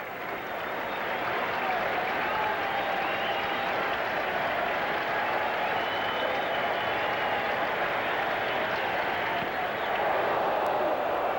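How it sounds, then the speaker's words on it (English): A baseball crowd at a Reds–Mets game in New York in 1984 applauds and cheers pitcher Dwight with two strikes on the batter, a broad steady roar of clapping sustained throughout, with faint talk underneath. "the crowd again getting behind Dwight"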